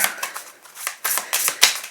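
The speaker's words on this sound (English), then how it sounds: "I'm gonna shuffle the Messy Truth Oracle cards" Oracle cards being shuffled by hand in a series of quick, crisp riffling bursts, close and fairly loud, with no talking.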